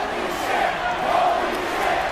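A dense crowd roars steadily in a WWE 2K24 wrestling arena, loud, even and unbroken with no clear peaks or pauses.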